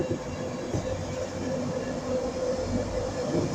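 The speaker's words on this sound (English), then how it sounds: "So I'll wait until the train parts" A train pulls out of Durham station with a steady rumbling roar and rolling wheel noise, close and continuous throughout, with no voices.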